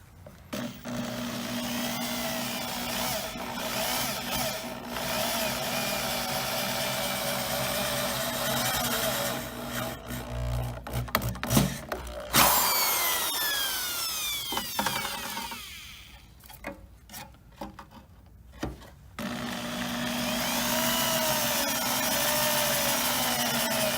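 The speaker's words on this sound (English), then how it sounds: "Want to drill a couple of holes right past that little notch right there." A power drill whines steadily, cutting out briefly and restarting several times as it bores holes for a truck-mirror camera bracket, close and loud.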